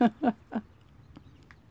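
Five-week-old chicks give three quick, close clucking calls in a row, followed by a few fainter chirps.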